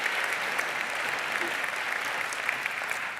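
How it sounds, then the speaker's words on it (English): Audience at an international student technology competition applauding, an even, sustained burst of many hands clapping that carries from start to finish, with faint voices beneath. "Can we get a round of applause, please?"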